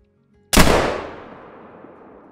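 A single loud muzzleloader rifle shot fired outdoors while hunting chamois in the mountains, a sharp close blast followed by a long rolling echo that fades over about two seconds.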